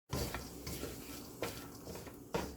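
Cooled cooked rice stir-fried in a frying pan, with a soft sizzle and three distinct scraping strokes of a utensil against the pan, fairly quiet and without talk.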